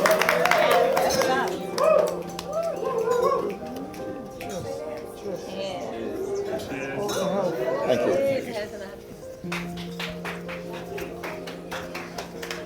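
Wedding guests at a Monkey Island Estate reception give light, polite applause after a toast, clapping mixed with clinking glasses, cutlery and murmured chatter around the tables.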